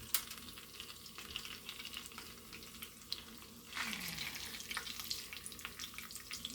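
A ramen grilled cheese sandwich frying in a pan, giving a steady low sizzle with faint crackles throughout and a brief swell of louder sizzling partway through; no one speaks.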